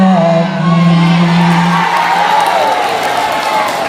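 A crowd at a Maulid and Haul religious gathering breaks into applause mixed with cheers and whoops, loud and sustained, with voices ringing over the clapping.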